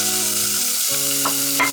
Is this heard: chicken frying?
yes